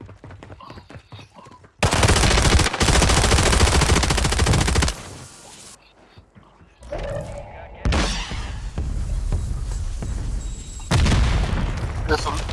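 Dense gunfire in Call of Duty multiplayer, long loud bursts of automatic fire and booms broken by short quiet gaps, with a player talking over the fighting.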